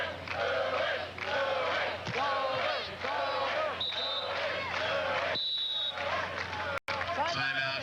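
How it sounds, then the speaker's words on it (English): A large crowd chants rhythmically in the closing seconds of the 1994 AVP Manhattan Open beach volleyball title match, loud and sustained, with a commentator talking over it. "The chant going up."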